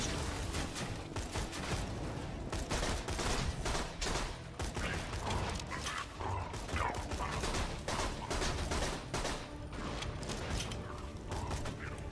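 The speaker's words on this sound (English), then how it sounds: "It's a dart weapon. Okay. Yeah, burst fires, but you don't miss all the time." Short bursts from the Lyuda dart weapon in a Borderlands-style shooter, loud and close, repeating continuously with mechanical clicks and clatter throughout.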